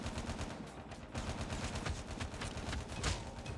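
Rapid gunfire crackles in a Call of Duty Mobile 2v2 gunfight, a dense continuous burst of shots blending into a rattling roar with game sounds behind it.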